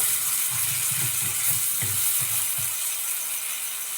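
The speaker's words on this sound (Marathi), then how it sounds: "पाणी सर्व काढून घ्यायचं" Water drained from chopped bitter gourd pieces, a close gushing trickle with a few soft rattling knocks of the vessel in the first half, then a steady hiss of flow.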